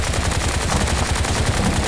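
Rapid automatic gunfire from the video game Bright Memory pours out in a dense, loud, continuous burst of shots, close and unbroken throughout.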